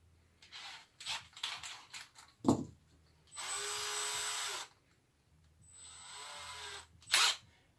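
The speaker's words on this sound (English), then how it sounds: "I'm going to pre-drill a little hole first" A power drill pre-drilling a hole in cabinet wood whirs in two sustained bursts, separated by a pause, with short knocks and handling clatter before and a sharp thud near the end.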